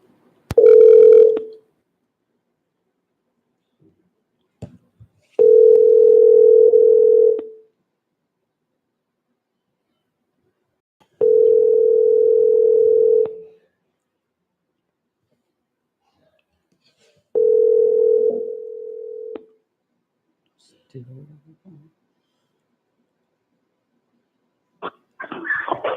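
Telephone dial tone sounding in four steady, loud bursts of about two seconds each, separated by silences, with a few faint clicks and a brief low rumble between them.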